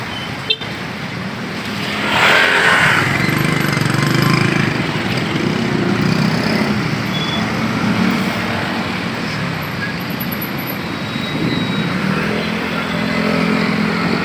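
Congested vehicles idle and creep through a small toll gate, their engines churning in a steady close rumble that rises in a loud surge early on and stays as a constant mechanical drone.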